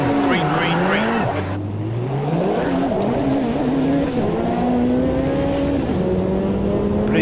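Ferrari F40 racing in the Automobilista 2 sim game, its engine droning loudly throughout as revs rise, drop on gear changes and climb again, with a voice talking over parts of it.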